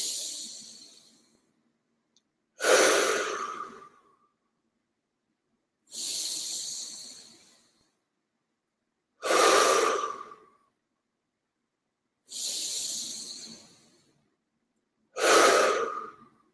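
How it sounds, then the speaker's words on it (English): A group breathes together in three slow cycles, each a loud, drawn-out inhale followed by a long, hissing exhale, separated by short silences, close and unaccompanied by talk. "let's take 3 breaths together as we feel ourselves a part of this oneness"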